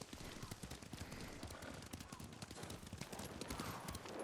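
Horse hooves clip-clop in the Ghost of Tsushima video game, a rapid, continuous patter of hoofbeats under a speaking voice, with possible bursts of game gunfire or clatter mixed in.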